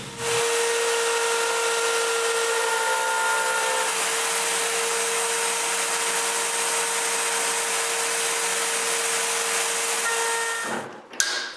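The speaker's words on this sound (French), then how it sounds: "j'ai coupé des rainures en V dans les panneaux. Eh bien, je fais la même chose cette fois-ci." A power tool cuts V-grooves into wooden panels for a bathroom vanity, a steady loud whirring roar that runs unbroken for about ten seconds and then stops abruptly.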